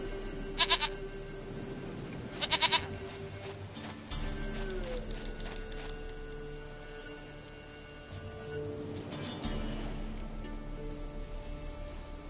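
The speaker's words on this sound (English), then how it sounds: "Goat of mine, dearest, sweetest goat." A goat in a fantasy action role-playing video game bleats twice in quick succession, short nasal calls over a steady low game ambience, followed by sparse music and a faint third bleat later.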